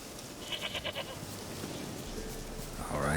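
A goat in The Witcher 3 gives a quick run of stuttering bleats, then a longer wavering bleat closes the moment against quiet in-game ambience.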